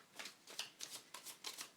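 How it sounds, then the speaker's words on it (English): Tarot cards are shuffled close up and softly, a quick run of riffling bursts that start and stop in an irregular rhythm. "Let's just shuffle these up a bit more."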